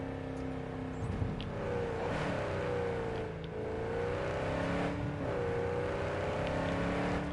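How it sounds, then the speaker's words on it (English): A car engine in Cyberpunk 2077 revs loudly and steadily, its pitch climbing and dipping in smooth surges with a whirring drone. It stays close and continuous for about seven seconds, with no voices. "That engine, that's fantastic, that car."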